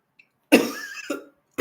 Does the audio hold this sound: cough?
yes